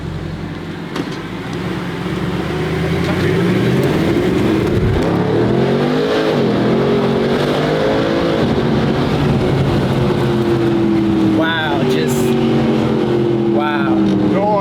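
A loud car engine revs up and down repeatedly through the exhaust, rising and falling in pitch, with a voice briefly speaking near the end.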